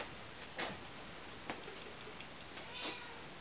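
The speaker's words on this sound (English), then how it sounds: "The kitty wants to say hello." A house cat gives a few faint, short meows spaced a second or so apart, each brief and quiet, over a steady hiss of room noise.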